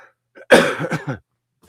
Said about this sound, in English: Let me just cough.